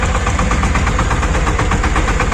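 A two-cylinder Chinese Weituo 28-horsepower engine on a walk-behind cultivator idles close by, a loud, steady, rapid chugging throb with even pulsing and strong vibration throughout, no voices.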